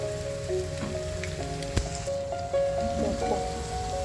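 Cauliflower pakoras frying in hot oil give a steady, close sizzle with scattered small pops and crackles, under a faint background hum.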